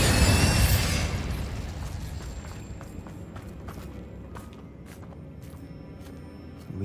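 In Hogwarts Legacy, the Bombarda spell sets off a loud burst-like explosion at the start, which fades into a rumbling tail and is followed by soft footsteps.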